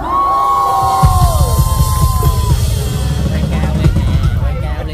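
A live audience at a televised Vietnamese rap and singing showdown erupts in loud cheering, whoops and yells with a dense wash of crowd noise, continuous throughout; a host's voice is heard speaking near the start.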